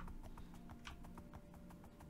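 Steady, even clip-clop of a horse's hooves at a gallop in Minecraft, a rhythmic string of quick thuds close by with no talking, quiet and continuous.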